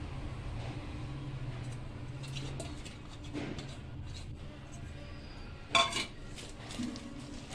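Okra tossed with gram flour batter in a bowl: quiet scraping and soft clinks of a utensil against the dish, with one sharper clink near the end.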